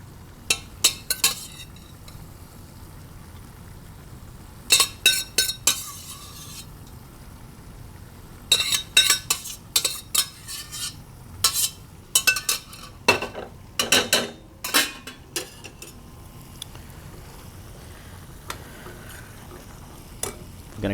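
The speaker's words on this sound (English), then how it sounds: "I'm gonna get this into the bowl." Steamed white rice and broccoli are served into a bowl with utensils, producing scattered clinks and scrapes of metal against ceramic that come in short bursts with quiet gaps between them, close and fairly crisp.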